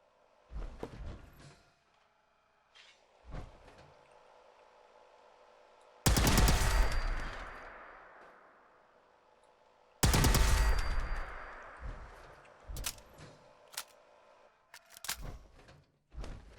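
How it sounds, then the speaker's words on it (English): Fallout 4 turret gunfire: two loud, sustained bursts of rapid automatic fire several seconds apart, surrounded by scattered single shots and clanks of video game combat, with no voices. "Okay, turret shut down again."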